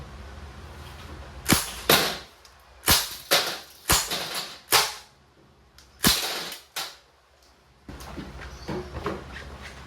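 A Crosman A4-P CO2 blowback BB pistol fires steel BBs in semi-auto, about ten sharp cracks at irregular intervals, a few in quick pairs, with quiet gaps between them.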